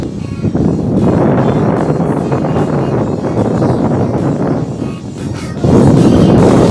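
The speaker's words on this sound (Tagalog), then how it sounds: "Hangin eh." Strong wind buffets the microphone atop a seaside lighthouse tower at Al Kout, Kuwait, a loud, roaring rush that dips briefly and then surges back harder near the end.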